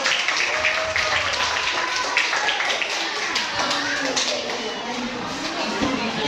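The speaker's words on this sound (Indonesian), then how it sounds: "Tepuk tangan untuk satu" Classroom applause for the first group, dense and steady clapping from many students that fills the room throughout. Faint chatter runs underneath.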